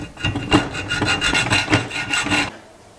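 A hacksaw cuts through a part for a camera microphone mount, a steady rasping back-and-forth rhythm of quick strokes, close and loud, stopping abruptly near the end.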